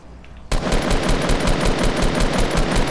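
Rapid automatic gunfire in a Fortnite squad match, starting abruptly after a brief lull and continuing as a dense, steady rattle of loud close shots with no talk over it.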